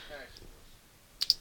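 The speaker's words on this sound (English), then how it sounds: "I click I on the keyboard" Two quick key clicks from a computer keyboard as the I key is pressed, sharp and close, after a quiet stretch with faint murmur in the background.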